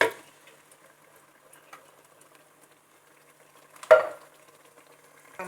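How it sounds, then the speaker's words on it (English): Tomatoes tip into a steaming pot of butter tomato rice: a quiet simmer, then one soft, brief splash-thud near the end. "I'm adding the tomatoes right now."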